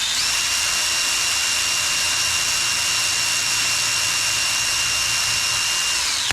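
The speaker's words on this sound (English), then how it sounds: "I'm using drill with a wire wheel." A power drill spinning a wire wheel on John Deere STX38 engine valves whines steadily at high pitch, with a harsh abrasive scratching texture, continuous until it stops abruptly.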